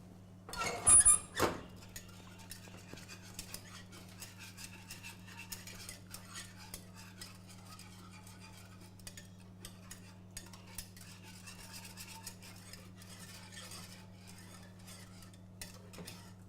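Cornstarch is mixed into lemon tart filling, with a brief loud clatter at the start followed by faint, scattered utensil scrapes and light clicks over a low steady hum.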